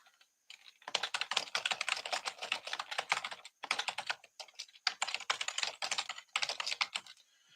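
Close, loud typing on a computer keyboard, rapid key clicks in several bursts separated by short pauses, with no speech.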